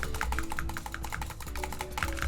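Rapid, steady clicking from a computer mouse or keyboard during a Minecraft Bedrock session on the Hive server, a dense run of sharp, close ticks that barely pauses, heard alone with no talk.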